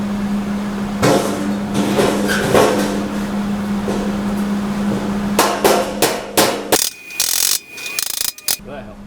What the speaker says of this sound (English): I'm going to try to dolly them into place